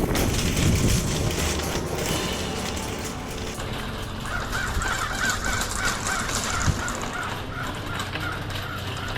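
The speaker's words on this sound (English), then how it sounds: "Morning to you too, crows." Crows cawing outdoors on a winter morning after freezing rain, repeated harsh calls at a distance, partly buried under steady wind and traffic-like background noise.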